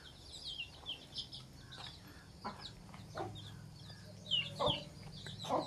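A hen clucks softly near her chicks, with high thin peeps from the chicks scattered throughout, quiet and close amid faint farmyard background noise.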